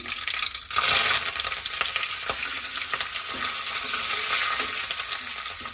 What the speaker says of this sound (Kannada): ನೋಡಿ ಸಾಸಿವೆ ಜೀರಿಗೆ ಚಟಪಟ ಚಟಪಟ ಅನ್ನುವಾಗಲೇ